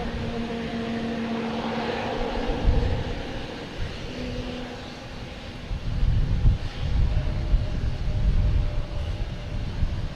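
JetBlue Embraer E190 airliner at Boston Logan, a broad jet rumble with a faint whine that swells louder midway, mixed with wind buffeting the microphone, no talk.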